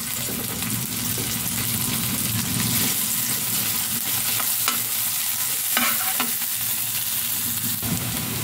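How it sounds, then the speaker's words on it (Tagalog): White onions sautéing in a pan for corned beef lumpia, a steady moderate sizzle with occasional stirring scrapes running through without pause. "Ang ginamit ko yung panggisa ay white onion."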